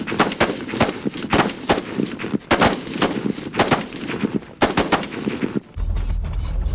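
Rifle gunfire in rapid loud bursts of sharp cracks, repeated in several volleys at close range, ending abruptly before a low rumbling background.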